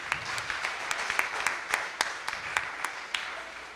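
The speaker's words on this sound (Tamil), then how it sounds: "அது எல்லாரும் வந்து மீண்டும் ஒரு முறை நல்ல பலத்த கைத்தட்டலை அளித்து குழந்தைகளை பாராட்டும்படி" An event audience applauds children after a singing performance, a steady wash of clapping with sharp individual claps popping out irregularly, moderately close and with no one talking.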